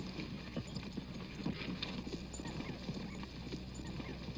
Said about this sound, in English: ¿Es aquel su caballo?